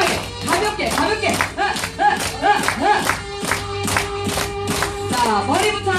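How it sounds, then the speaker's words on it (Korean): A group of trainees claps in unison along to a song at a health-clapping class, rhythmic sharp claps over music with a leader's voice calling out above them. "좀 더 박수를 경쾌하게! 가볍게!"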